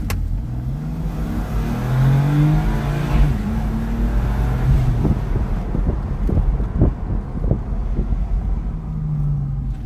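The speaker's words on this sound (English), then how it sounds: "I'll try to engage launch control" A 2017 BMW M4 Competition launches hard from a standstill under launch control, its engine roaring loud and close with a brief bog, then revving up through rising gear pulls amid heavy wind and road noise.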